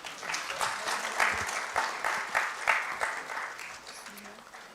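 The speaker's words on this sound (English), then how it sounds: "Please give a big round of applause" Audience applause at a Pakistani conference and annual general meeting, brisk rhythmic clapping from a hall of attendees, moderately loud and steady, tapering off near the end.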